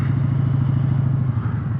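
A motorcycle ridden along a street, its engine close and steady with a rapid, throbbing pulse throughout, and no voices.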